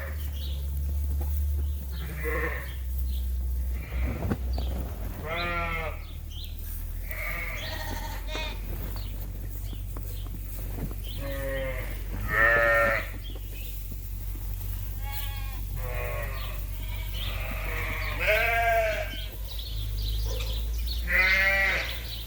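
Many sheep bleat one after another, some near and some farther off, their wavering cries repeating over a low steady rumble.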